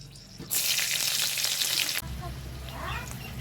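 Green chillies hit hot oil in a wok already holding dried chillies and a bay leaf, setting off a sudden loud sizzling hiss that holds steady for about a second and a half, then eases to a low, softer frying.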